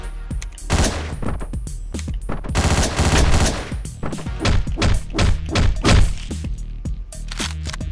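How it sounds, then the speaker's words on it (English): Shotgun blasts boom repeatedly in a frantic top-down Hotline Miami shootout, loud punchy shots in quick irregular bursts with heavy thuds between them. "This is a shotgun."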